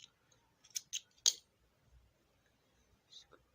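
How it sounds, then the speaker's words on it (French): Scissors snip through knitting yarn on a child's knitted shorts, giving a few crisp, close cuts in quick succession around the first second and a half, then a softer pair of snips near the end, with no talk. "on va couper simplement"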